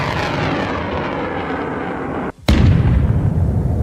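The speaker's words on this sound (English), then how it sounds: "a HIMARS opens fire." A HIMARS rocket launcher fires on a battlefield in Ukraine, a loud roaring rush that cuts out briefly, then a sharp blast followed by a heavier, rumbling roar.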